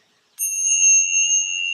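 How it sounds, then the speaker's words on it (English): A bell rung once in a quiet room before a weekly mantra gives a bright, clear strike. Its sustained tone lingers evenly and slowly fades, with no voices. "This week's mantra, we're going to actually ring the bells"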